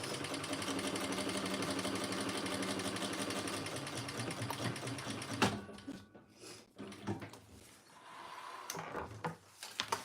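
A sewing machine runs continuously while stay stitching heavy canvas, a dense close mechanical drone for several seconds, then stops, leaving scattered handling clicks and rustles.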